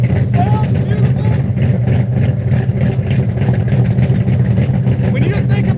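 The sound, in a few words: hot rod car engine running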